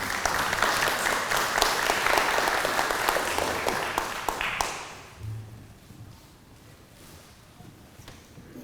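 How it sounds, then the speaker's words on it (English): Audience applause for a lunchtime history lecturer, a full burst of clapping for about five seconds that stops abruptly, leaving a quiet room with a faint thump and light footsteps. "can we have a round of applause for John?"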